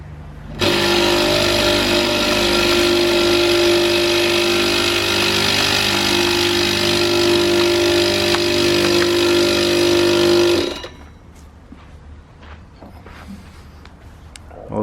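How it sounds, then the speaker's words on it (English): A Karcher K4 pressure washer with a pump fault runs its motor at a loud, steady whine for about ten seconds and then cuts off abruptly into quiet room noise. "now there is a motor rotation, but the pump doesn't work"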